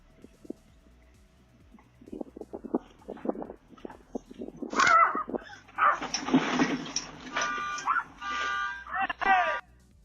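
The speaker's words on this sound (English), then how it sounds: "So here is this person's dog barking at the earthquake that is about to hit." A dog barks on a home doorbell camera just before an earthquake, starting with sparse soft thumps and whimpers, then building into a series of loud, close barks and yelps.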